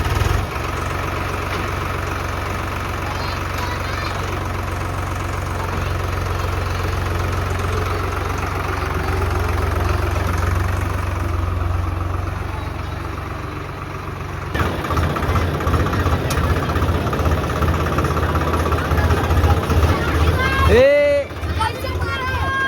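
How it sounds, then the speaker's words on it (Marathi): A tractor engine idling close by with a steady low rumble and knocking beat, growing busier and louder later, with people talking over it. "बाकी आता ट्रॅक्टरवर जाऊ."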